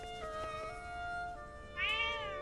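A cat meows in Zelda: Echoes of Wisdom, one clear rising-falling meow near the end over steady game music, with no talking.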